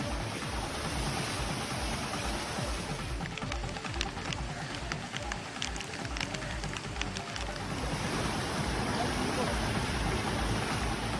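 Rain falling steadily across Chennai streets, a dense, continuous hiss with scattered patter and splashes, while a voice speaks over it at times.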